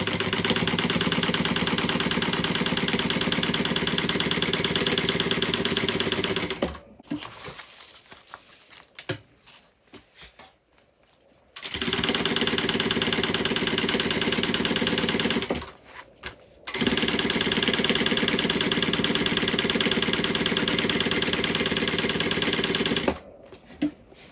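Sewing machine stitching the sides and bottom of a tote bag, a loud, fast continuous mechanical whir in long runs separated by quiet pauses with faint handling noises.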